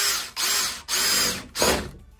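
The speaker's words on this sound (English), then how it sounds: "we got us a hole in there, and that was a dull drill bit first" A power drill fitted with a dull step bit bores a hole in several loud, steady bursts, each with a grinding whine and short pauses between, ending in a rougher pass before it stops.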